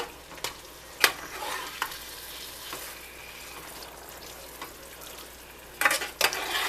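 Onion and garlic powder being stirred in a sizzling pan for baked nachos, a steady frying hiss with sharp scraping clicks of the utensil against the pan, close by.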